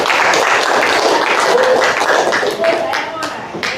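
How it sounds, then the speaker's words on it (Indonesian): A classroom group bursts into steady, dense applause, many hands clapping together at close range for several seconds with voices mixed in. "Tepuk tangan untuk kita semua."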